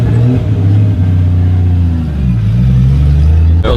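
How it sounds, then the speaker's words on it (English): Toyota Supra engine rumbling loud and close as the car pulls up at a Cars & Coffee meet, with rising revs and a deep steady drone throughout. "And this Supra's pulling up."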